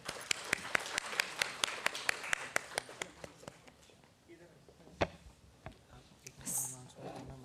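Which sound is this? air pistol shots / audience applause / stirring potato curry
audience applause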